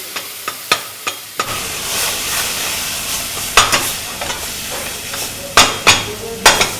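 Mashed tapioca stirred in a metal pan, with repeated scraping and clinking strokes of a spoon against the pan, some sharp knocks, and a faint sizzle underneath, close and fairly loud.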